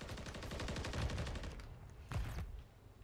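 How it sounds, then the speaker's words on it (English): Close automatic gunfire in Call of Duty on the Invasion map: a rapid, evenly spaced machine-gun burst lasting over a second, a short pause, then a couple of louder, separate shots. "I think I walked in front of my teammate as I was shooting the enemy"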